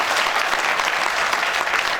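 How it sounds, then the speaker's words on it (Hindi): An audience applauds the performers of a stage play about the struggle since 1857, a dense, loud, continuous wash of clapping with no pauses. "ये लोग वास्तव में जोरदार तालियों के हकदार हैं"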